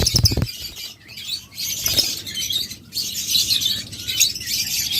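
Pet lovebirds in a cage chirp and twitter nearly nonstop, with a burst of wing flapping at the start and bright, busy calls close by.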